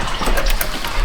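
Coolant being sucked out of the overflow tank of a Buick LeSabre, a short loud gurgling, slurping rush of liquid heard close up with no talk.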